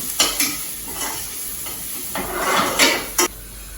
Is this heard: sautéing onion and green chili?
yes